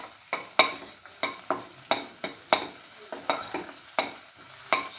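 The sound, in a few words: sauteing shallots with salt in a pan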